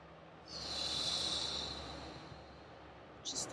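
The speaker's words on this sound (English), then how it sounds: "Just do the circular breathing." Circular breathing practice: a single long, airy breath flowing smoothly for about a second and a half, fading gradually, followed by a short sharper intake near the end, close and quiet with no talking.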